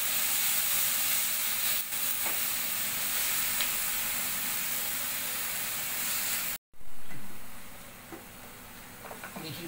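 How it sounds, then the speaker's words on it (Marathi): Onion with mint, coriander and green chili paste sautés in a pan, a steady loud sizzle and hiss with faint stirring scrapes, briefly cut off once, then resuming more softly with light crackles. "त्याच्यामध्ये आता आपण ही पुदिना, कोथिंबीर, मिरचीची पेस्ट घालून घेणार आहोत आणि थोडं याला परतून घेणार आहोत"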